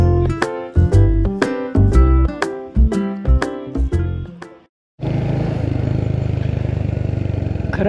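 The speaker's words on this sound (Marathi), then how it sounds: "इथे बाईक चालवायची मजा वेगळी आहे" After a few seconds of rhythmic music and a short silence, a motorcycle cruises along a curvy mountain road toward Rohtang Pass near Manali, giving a steady, fairly loud engine drone with faint rapid pulsing and wind noise.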